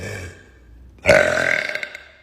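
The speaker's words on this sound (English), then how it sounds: "I wanted to do like a burp, or maybe two, in this echoey room" A woman lets out a single loud, drawn-out burp in an echoey, empty room, its rasp ringing off bare walls after a moment of quiet.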